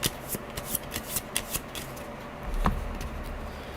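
Cards from a small box solo board game shuffled by hand, a run of crisp riffling flicks and rustles up close, followed by a softer bump and handling noise.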